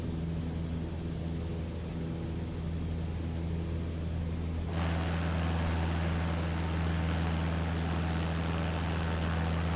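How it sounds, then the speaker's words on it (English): Airplane engine in Microsoft Flight Simulator 2024, a steady droning hum with low tones that jumps abruptly louder and brighter midway, then holds constant. "If plane is too loud, just let me know."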